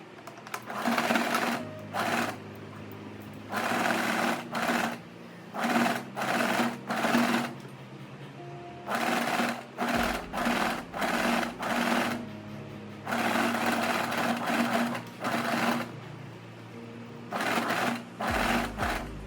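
A sewing machine stitches the seam of a tie-back dress with a gathered empire waist. It runs in repeated short bursts of rapid, mechanical whirring, close by and broken by brief pauses.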